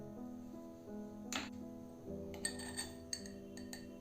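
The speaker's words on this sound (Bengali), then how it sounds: "এই মশলাগুলো রোস্ট করে ঠান্ডা হওয়ার পর হামানদিস্তায় গুঁড়ো করে নিতে হবে।" Roasted whole spices are pounded in a mortar and pestle, giving a few quiet, sharp knocks and clinks spaced irregularly over a faint steady background hum, with no speech.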